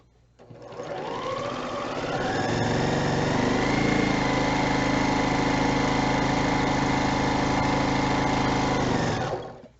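A sewing machine stitching quilt seams a quarter inch either side of a line for half-square triangles: a close, continuous motor whir that ramps up, holds a steady stitching rhythm for several seconds, then stops.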